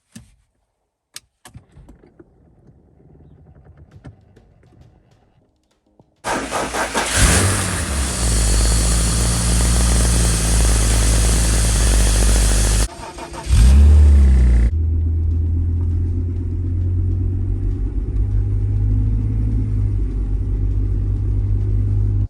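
A 2005 BMW X3 engine cranks and catches after a rebuilt transfer case is reinstalled, then settles into a loud, close, steady idle with a brief rev in the middle, preceded by a few faint clanks of tools.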